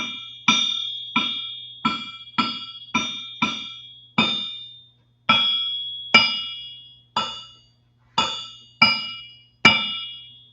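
A metal jet engine part is tapped repeatedly, each strike giving a clear, bright ring that decays slowly; a dozen taps at uneven intervals, no talking.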